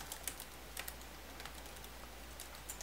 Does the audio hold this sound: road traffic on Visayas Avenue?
no